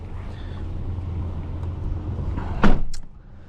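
Someone climbs into a 2005 Buick Rendezvous over a low idling rumble, with a sharp door thunk near the end and a short rustle after it.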